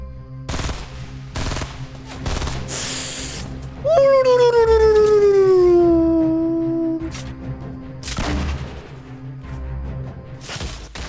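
Rapid bursts of gunfire in a Fortnite Battle Royale match echo around a sweeping whistle-like tone, with several sharp shot clusters spaced across the clip and a commentator talking over them.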